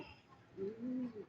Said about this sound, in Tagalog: May mga ibon na nagdadaanan.